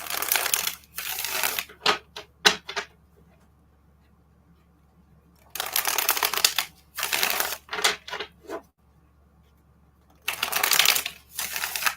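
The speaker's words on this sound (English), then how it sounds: "I'll be shuffling." A deck of tarot cards is shuffled in three separate bursts of brisk, papery riffling and slapping, each a couple of seconds long, close and fairly loud, with quiet pauses between.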